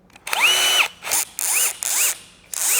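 A DEWALT entry-level drill on speed 1 bores with a 16mm Diablo spade bit in four short bursts, each a whirring run-up that rises in pitch and cuts off, close and fairly loud with no talk.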